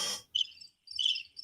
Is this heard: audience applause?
no